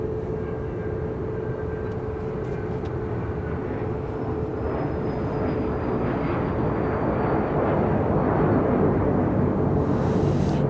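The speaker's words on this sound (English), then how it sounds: "hearing the sound of plane engines revving up and taking off." Airliner engines spooling up and taking off at Dallas Love Field, a steady, loud broadband roar that holds and swells slightly toward the end, heard from a spotting position nearby.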